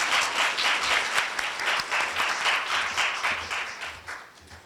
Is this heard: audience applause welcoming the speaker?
yes